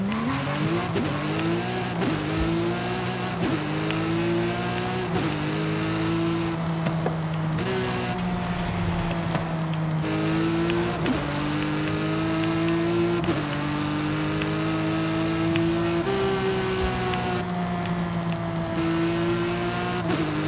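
A heavily modified Porsche 911 GT3 RS driven hard in Forza Horizon 5, its engine note climbing through repeated gear shifts, high-revving and loud, with occasional tire squeal and no talk.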